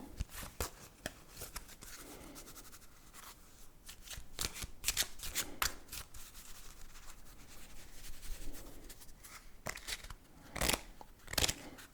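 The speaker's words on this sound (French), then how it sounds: "On va ouvrir ce jeu de cartes." A new, stiff deck of playing cards is unwrapped and handled up close, with crisp snapping, riffling and rubbing bursts at irregular intervals, quiet and intimate with no talk.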